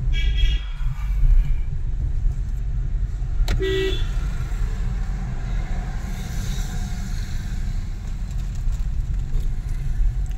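A car horn toots briefly once on a single-lane road, heard over the steady low hum of a car engine and road noise in a moving vehicle.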